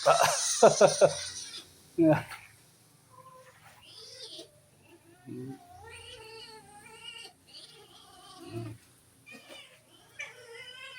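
A farm cat meows and yowls in short, loud, close cries at the start, followed by softer intermittent mewing while people talk and chickens and ducks are around.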